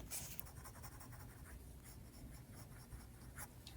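A fine-nib pen scratches softly across the paper of a Hobonichi planner in close, continuous writing strokes, faint and alone with no voice.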